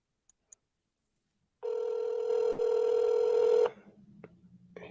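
An outgoing telephone call rings back: a single long, steady electronic ring tone sounds clearly for about two seconds after a couple of faint clicks, then fades to quieter line noise.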